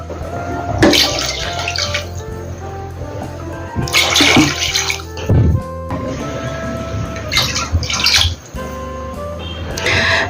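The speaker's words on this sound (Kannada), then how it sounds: "ಈ ಕಪ್ ಮೆಜರ್ಮೆಂಟ್ ಅಲ್ಲಿ 2 ಲೋಟ ಅಕ್ಕಿ ತಗೊಂಡಿದ್ದೀನಿ, ಹಾಗಾಗಿ 4 ಲೋಟ ನೀರು ಸೇರಿಸ್ಕೊಂತೀನಿ." Water is poured from a cup into two cups of rice in a cooking pot, a few splashy pours in bursts with short pauses between them, close and fairly loud, with no talking.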